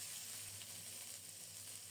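Fried masala spices sizzle steadily in a hot pan as chopped tomato and green chili are added, a soft continuous crackle with no voices.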